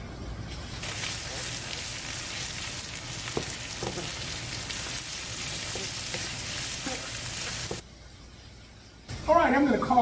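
Sausage frying in a pan for sausage-stuffed zucchini, giving a loud, steady, close hiss that runs unbroken for several seconds, then drops out briefly before a voice begins speaking.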